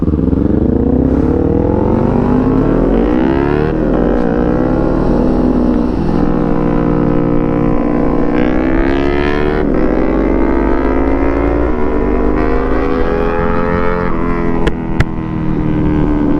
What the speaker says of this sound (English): Let's hear the exhaust at high RPM.